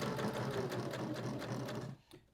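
A sewing machine runs fast and steadily through scrap fabric, its needle clattering in a dense even rhythm, then it stops abruptly near the end with no talking.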